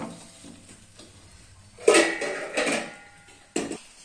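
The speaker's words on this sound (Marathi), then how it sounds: "आता यावर झाकण ठेवूया" A lid is set onto a pan holding an amboli on the stove, giving a couple of distinct metallic clanks with soft kitchen rustling between them.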